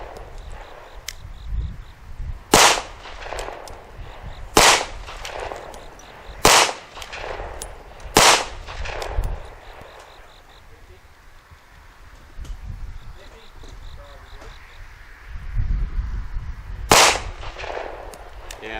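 Pistol shots from a Smith & Wesson M&P 2.0 Shield X with a trigger that fails to reset, firing five sharp, loud single cracks spaced irregularly seconds apart, with quiet handling and murmured talk between them.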